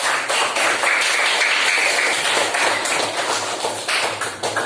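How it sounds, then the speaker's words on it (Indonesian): A short round of clapping from a small group of students in a classroom, steady and fairly close, lasting a few seconds without talk. "Tepuk tangan."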